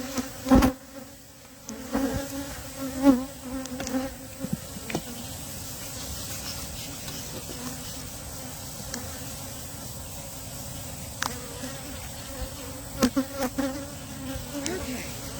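Honey bees buzz around their hives, a dense steady droning swarm with individual bees whizzing close past now and then, accompanied by a few soft knocks and handling sounds.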